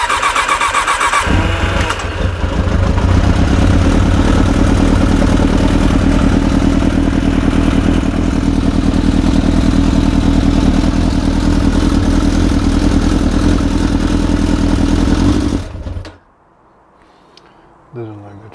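A Suzuki GSX600F Katana motorcycle engine cranks and fires, then settles into a loud, steady idle for about fifteen seconds before being shut off, the choke making it run rough.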